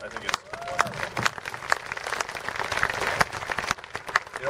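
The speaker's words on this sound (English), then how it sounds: "the people here deserve just an incredible round of applause from CAMH" A crowd at the grand opening of CAMH on Queen Street West in Toronto claps in a lively, uneven burst of applause, with talking audible over the clapping.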